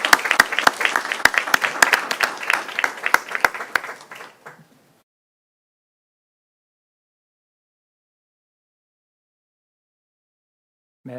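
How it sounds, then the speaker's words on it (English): Applause from the audience at a school board monthly meeting, a dense burst of many hands clapping that fades out after about four seconds, followed by near silence. "Another round of applause, please."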